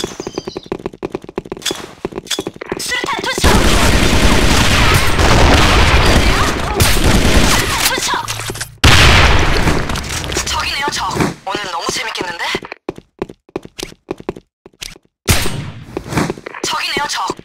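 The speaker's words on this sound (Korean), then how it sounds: "수류탄 까고 헤드샷 쏘!" Gunfire and grenade blasts in the Sudden Attack online shooter, on a supply-depot map against AI bots: dense, loud bursts of shots and booming impacts fill the middle, then sparser sharp reports and thuds trail off, with game voices mixed in.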